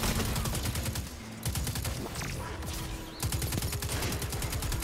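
Rapid bursts of automatic gunfire in a shooter video game, loud and close, with dense repeated shots in volleys broken by brief pauses, plus occasional single reports.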